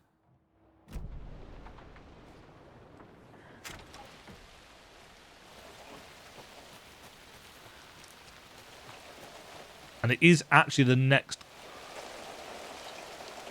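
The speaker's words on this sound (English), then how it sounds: "Oh, that rain sound design." Steady, dense rain in the video game Alan Wake 2 hisses throughout, with a person talking over it and a short, louder burst of other sound partway through.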